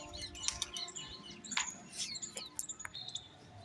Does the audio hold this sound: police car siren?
no